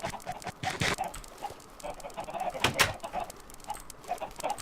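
Chickens cluck in a Minecraft Drugcraft modpack farm, a scatter of short clucks and soft squawks over a few seconds with a couple of louder sharp bursts, no speech over them.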